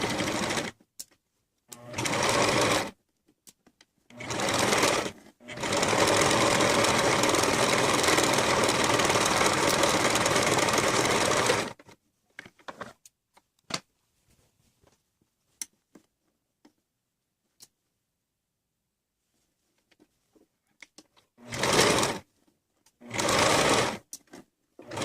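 A sewing machine stitches a t-shirt in several close, loud bursts of varied length, one running about six seconds, separated by quiet pauses with small clicks and handling noises.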